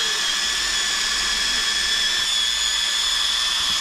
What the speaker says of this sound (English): With that, we'll get to some polishing.